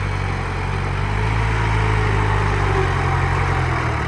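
An old Iseki NT554 tractor engine runs at a steady, loud drone while the tractor pushes soil, a continuous low rumble with no pauses or talk.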